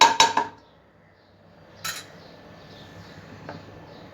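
Roasted poppy seeds scraped out of a pan, with a few sharp metallic clinks of a utensil against the pan at the start, one more clatter midway, then quiet.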